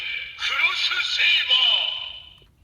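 Electronic light-up sound effect from a DX Haouken Xross Saber toy sword, a bright ringing tone with heavy echo that swells, holds for about two seconds, then fades away with a lingering reverberant tail.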